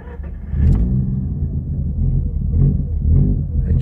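From cold with no throttle, a car engine fires straight away, its low rumble surging and dipping unevenly as the idle hunts over a few seconds, recorded close and loud.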